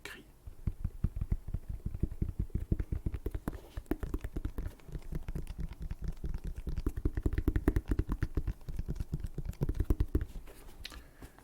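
Fingers tapping quickly on the red and grey leather panels of a Jordan 1 sneaker, a dense run of close, soft thuds and taps for several seconds with no clear talking.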